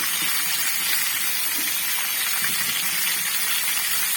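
Pumpkin slices go into hot oil in a wok, giving a steady, close sizzling hiss that holds evenly throughout with no talking.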